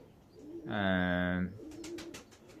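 Sport pigeons during morning training outdoors: a single close, clear throaty coo, followed by a quick run of soft fluttering, flapping bursts against faint background noise.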